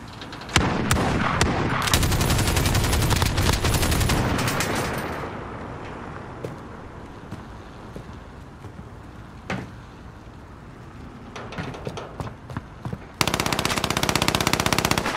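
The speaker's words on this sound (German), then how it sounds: "Sie schießen auf mich!" Gunfire in Call of Duty Modern Warfare team deathmatch: dense, loud automatic bursts at the start, a quieter stretch with scattered single shots, then another heavy volley at the end.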